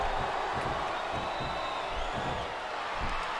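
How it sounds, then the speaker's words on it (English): A crowd chanting in the WWE SmackDown vs. Raw 2007 wrestling video game, a steady, loud arena roar with a faint rhythmic pulse running through it. "listen to that chant"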